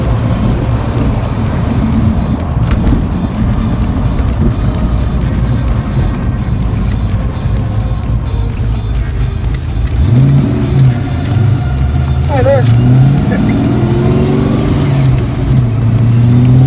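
A Silver Coupe with a B303 engine drives along a road, its engine droning loud and steady from close by, with the pitch rising and falling as it revs through the gears.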